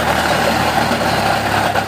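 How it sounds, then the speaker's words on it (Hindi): A Massey Ferguson 241 Dynatrack tractor engine, rated 42 HP, runs steadily while pulling a 6-foot rotavator through Maharashtra farm soil, giving a loud, continuous low rumble with no pauses. "ये 6 फीट का रोटावीटर 241 डायना ट्रैक चला लेता है, बड़ी आसानी से चला रहा है।"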